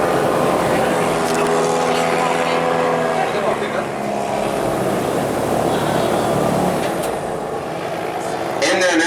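A tour boat engine drones steadily in the Florida Everglades, a loud continuous motor roar that holds throughout with a brief swell near the end; a voice speaks faintly beneath it.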